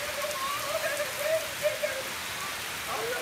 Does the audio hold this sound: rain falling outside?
yes